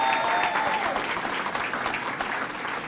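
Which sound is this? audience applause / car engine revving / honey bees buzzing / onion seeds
audience applause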